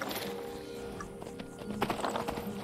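Horse hooves clip-clopping in Skyrim, a quick irregular run of hoofbeats at moderate distance over faint background ambience, fairly quiet.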